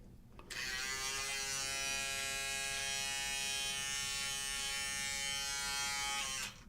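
A Wahl electric hair trimmer, over seven years old and just maintained, buzzes steadily at close range for several seconds, a constant high motor whine with no talking.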